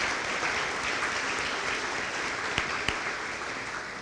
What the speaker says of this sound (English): They and their office deserve a huge round of applause.